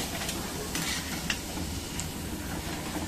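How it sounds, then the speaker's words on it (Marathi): Roasted gram (dalia) fries in oil in a pan while making Satara-style bhadang, giving a soft, continuous sizzle with faint stirring scrapes and a light clink, fairly quiet and steady throughout. "हे बघा आपला डाळिया तळून झालेला आहे"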